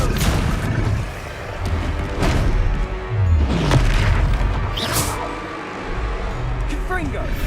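Confringo fire-spell explosions in the video game Hogwarts Legacy: several booming blasts and bursts in a loud, busy battle mix, with character voices speaking over the combat.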